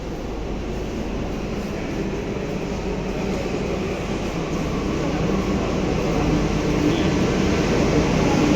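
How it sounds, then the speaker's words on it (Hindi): A Delhi Metro train bound for Dwarka rumbles into the station, a broad steady roar that slowly grows louder as it approaches, with no voices. "और फाइनली अपनी वाली मेट्रो द्वारका वाली आते हुए।"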